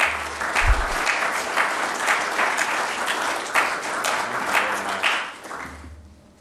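An audience applauds a guest speaker at a university talk on sustainable agriculture at Oregon State, a steady wash of many hands clapping that holds for about five seconds and then fades out.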